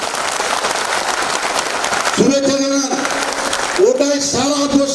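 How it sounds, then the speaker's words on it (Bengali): An audience claps together to greet the chief minister at a public gathering; the steady, dense applause fills the space while a voice speaks over it partway through. "আপনারা সবাই এক সেকেন্ড প্রত্যেকে হাততালি দিয়ে মুখ্যমন্ত্রীকে শুভেচ্ছা জানান"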